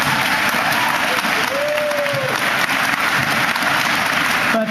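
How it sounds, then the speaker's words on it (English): An audience at a political forum applauds steadily, with dense, even clapping that holds at a constant level for the whole stretch and a faint tonal sound briefly rising above it. "They really deserve a round of applause for that."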